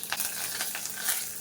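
Curry leaves crackle and sizzle in hot oil for a tomato chutney tempering, a steady close frying hiss with a few sharper pops over about a second and a half, no voices.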